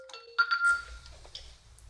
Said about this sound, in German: Telefon tun wir auch entgegennehmen, wenn jemand anruft